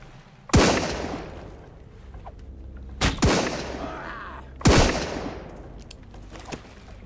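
Three loud, sharp gunshots ring out in Sunkenland while raiding an enemy outpost, spaced a couple of seconds apart, each with a long decaying echo and no talking between them.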